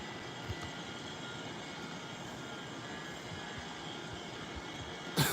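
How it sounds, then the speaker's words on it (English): Airbus A319 jet engines hold a steady, broad roar in cruise in a flight simulator game. The sound is even and sustained, with a brief louder swell at the end and no talking. "this Airbus A319 is flying pretty nice"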